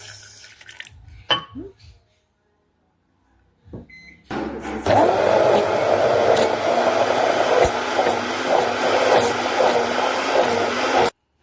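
A loud, steady motorized whir starts after a few seconds of quiet handling noises and runs continuously to the end, a blender churning sauce ingredients with milk at full speed.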